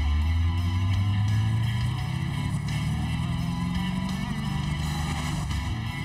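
A 1971 Plymouth Barracuda Hemi convertible idles loudly after starting up, its deep engine rumble rising slightly in pitch as the revs climb, steady and close with no talk.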